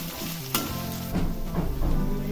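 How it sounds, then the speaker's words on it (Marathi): Ginger-garlic paste sautéing with fried onion for corn chivda gives a steady sizzle. Stirring scrapes swell partway through, and a sharp clack comes near the start. "कांदा भाजलेला आहे त्यामध्ये आलं लसूण पेस्ट टाका घालायचे दोन मिनटं परतायचं आहे"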